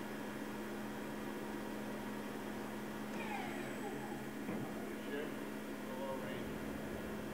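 A large Romi CNC flat bed lathe with a 16-inch four-jaw chuck spinning at 750 RPM, a steady whirring drone with a constant hum, faint and even throughout, with some faint squeaky sounds midway.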